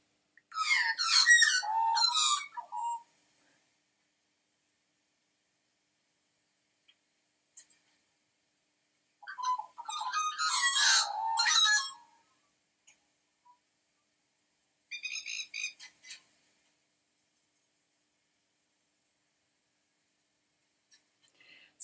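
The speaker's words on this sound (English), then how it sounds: "if you'd like to hear what a New Zealand magpie sounds like" A New Zealand magpie calls in three separate bursts of warbling, fluting notes with piping whistles, clear and fairly close against near silence, with long pauses between phrases.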